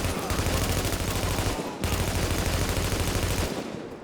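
Dense, continuous gunfire from the video game Tom Clancy's The Division, loud and close, with a very brief break midway before the rapid shots resume.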